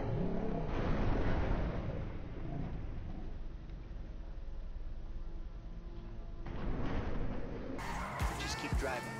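A truck drives in GTA V, its engine droning and revving steadily at close range with wind and road noise, rising toward the end as a voice talks over it.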